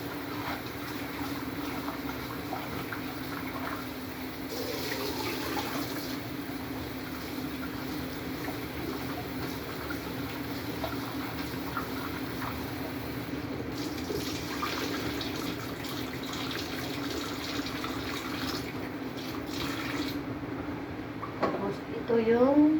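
Tap water runs steadily over bitter gourd (ampalaya) being washed in a kitchen sink, a continuous broadband splash throughout with a brief clatter near the end.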